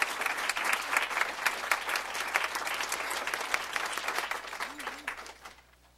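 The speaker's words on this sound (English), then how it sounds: "if you could give them another round of applause" An audience at a school board meeting applauds students, a steady wash of clapping from many hands that thins and fades out near the end.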